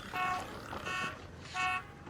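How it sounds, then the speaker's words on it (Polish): A horn honks in the video game ARC Raiders with three separate, moderately faint, tonal blasts, each about a quarter second long, over low background rumble. "tu jeszcze coś trąbi"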